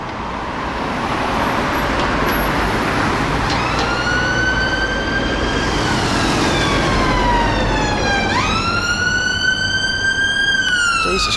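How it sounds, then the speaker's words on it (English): Ambulance and police sirens wail, rising and falling over steady street traffic on a London road, with a second siren joining and shifting pitch as vehicles pass nearby. "that's all you hear around here is ambulance sirens and police"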